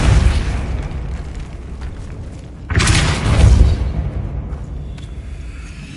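A Depulso spell fires in a Harry Potter video game. A low background rumble leads into a sudden loud boom midway, which swells and then fades into a softer hum, with no voices.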